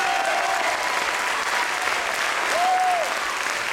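A theatre audience at the Hôtel de Ville in Le Havre claps steadily and loudly, a thick continuous wash of hands with a brief rising whistle near the end.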